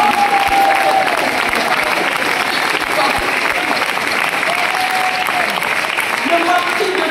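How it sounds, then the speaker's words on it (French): An audience at a network marketing gathering applauds in a sustained, fairly loud wash of clapping and crowd noise that stays steady for several seconds. "On l'applaudit."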